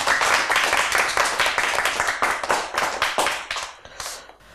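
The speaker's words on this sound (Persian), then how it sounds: "تشویق کنین علیرضا جان." Studio audience at a children's and teens' broadcast clapping together, a dense burst of applause that stays loud for several seconds before thinning into scattered claps.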